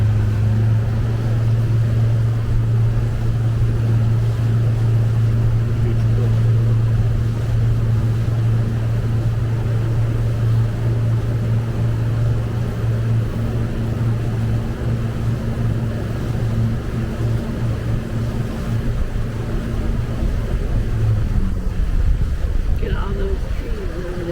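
A tour boat's motor drones steadily on a river near Dunnellon, Florida, a constant low hum mixed with wind noise on the microphone, with people talking intermittently over it.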